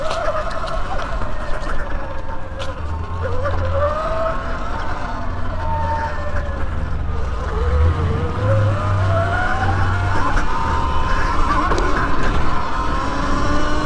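A Sur Ron X Black Edition electric dirt bike rides across grass, its motor whining and rising and falling in pitch beneath steady wind and tyre rumble, close and loud throughout.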